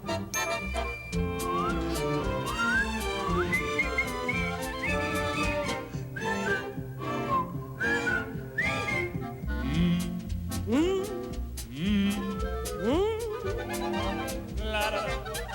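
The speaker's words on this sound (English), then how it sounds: "give a little whistle, give a little whistle" A bright whistled melody rises over a full orchestral Disney song, with short whistled phrases recurring through the passage amid dense instrumental accompaniment.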